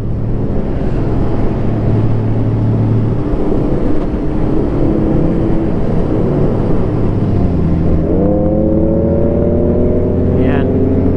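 A Toyota FJ Cruiser's engine drones loud and steady through its exhaust, then climbs in a rising rev near the end, with traffic and motorcycles around.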